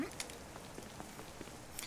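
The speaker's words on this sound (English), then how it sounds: "Dance in the rain. Soak my leather armor." Rain falling in town in the video game Baldur's Gate: Dark Alliance, a soft continuous hiss with scattered faint droplet ticks, fairly quiet and steady with no talk.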